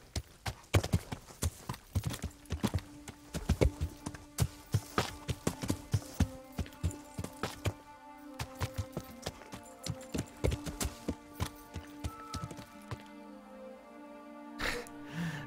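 In Kingdom Come: Deliverance, a horse carrying a fully armored rider labors up a steep slope. Its hooves strike in uneven clusters of close, fairly quiet thuds, and there are soft snorts or breaths near the end.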